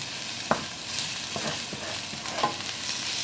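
Spice paste with cayenne and coriander sizzles in a very hot pan while being stirred, a steady close frying hiss broken by a few scraping stirs and small pops.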